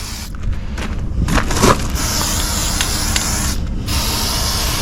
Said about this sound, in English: I'll just hit some of this with some fluid film where all the salt and crap tends to